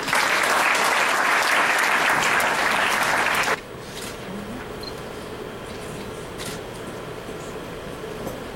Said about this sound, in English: join me in giving a big round of applause to Ben Hardy